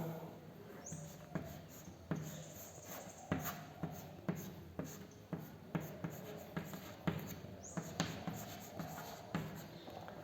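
Chalk or marker strokes on a board during a chemistry lecture on carbonyl compounds, steady repeated tapping and scraping strokes at a moderate, fairly quiet level throughout.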